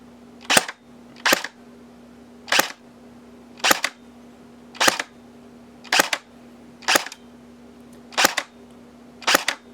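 Ten sharp, evenly spaced shots ring out from an ICS airsoft M1 Garand rifle fired through a chronograph. Each crack is loud and close, with a short pause between shots and a faint steady hum underneath.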